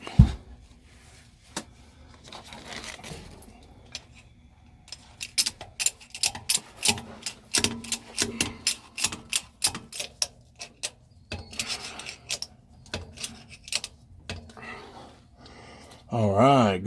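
A jack is cranked under a motorhome to lift it, giving a long series of sharp, close ratcheting clicks in an uneven rhythm with short pauses, ending with a brief louder burst.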